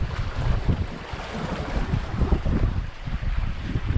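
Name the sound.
strong wind on the shore while fishing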